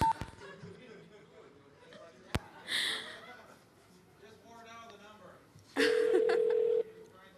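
Telephone tones sound during a prank call in a conference panel on pirate radio. A short tone burst comes first, then a loud, steady tone lasting about a second, with people talking around them.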